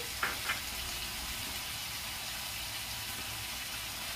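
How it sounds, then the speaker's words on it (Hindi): Green chillies sizzling in hot oil in a pan while cooking pasta, a steady soft frying hiss throughout with a couple of brief louder crackles near the start. "अब ये हरी मिर्च है, इसको डाल दूंगी"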